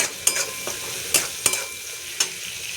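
Spice paste with turmeric, salt and black salt fries in a pan under a constant hiss, punctuated by about five sharp, separate scrapes and knocks of a stirring spoon against the metal.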